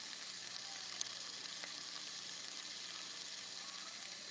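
Vegetables fry in grass-fed butter in a saucepan, giving a steady, soft, even sizzle that holds throughout with only a faint tick or two.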